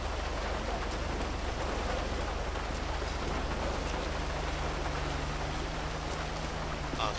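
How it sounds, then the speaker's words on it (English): Steady rain in a police simulation video game (LSPDFR) patters on a surface in a continuous hiss, with a low engine-like hum underneath and no talking. "As you can see, the rain has finally arrived."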